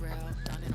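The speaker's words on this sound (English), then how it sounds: "Look at that horse." A horse neighs briefly at a busy brand community event, a short whinny heard close by over a steady bed of crowd chatter and voices.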